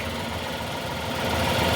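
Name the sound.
Tata Tigor car vibrating at idle with AC on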